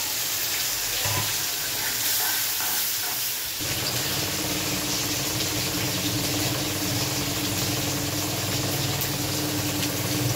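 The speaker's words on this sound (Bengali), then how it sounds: "এবার একটু পানি দিয়ে দিব।" Water poured onto frying onion and tomato masala sets off a sudden loud hiss and bubbling boil that holds steady and close after a quieter opening sizzle.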